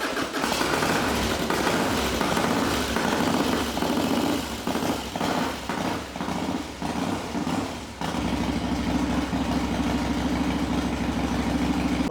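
A Harley-Davidson Dyna Wide Glide motorcycle that had sat unused, its engine running with a steady low rumble that briefly sputters and dips before settling into an even idle, close by.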